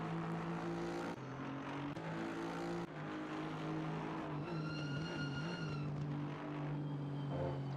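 Porsche race car in a racing video game at Watkins Glen, a steady engine drone with rising gear-change whine and a tire squeal, loud and alone with no talk.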